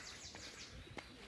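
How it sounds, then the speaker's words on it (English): Feral pigeons cooing from a tree in a city park, soft low coos under steady outdoor ambience with faint birdsong in the background. "this tree coming up on the left, this one, it's full of feral pigeons."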